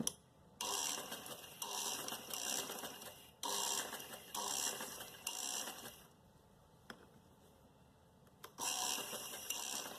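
A sewing machine stitches along cloth in running bursts of rapid mechanical ticking, stopping and starting several times over a quiet background, close up with no speech.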